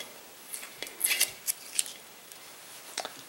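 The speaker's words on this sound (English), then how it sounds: "take off the tape" Tape peels off a crock pot handle in quick, crinkly bursts of rasping, close and fairly soft, with brief pauses between pulls.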